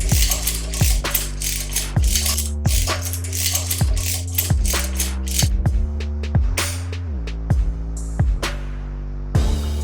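King Tony 6122 reversible wire twisting pliers spin in reverse, making a rapid series of close, rhythmic whirring spins with falling motor pitch and ratcheting clicks between bursts, loud and alone.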